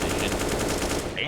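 Rapid automatic gunfire from a Counter-Strike match on the Mirage map, a dense continuous burst of shots filling the whole moment with steady rhythmic cracks at close range, loud and unbroken, with faint shouting underneath.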